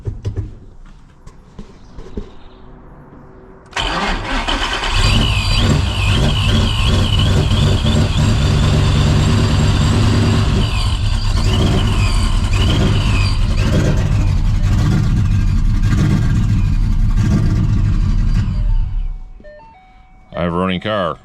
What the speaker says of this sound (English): I have a running car.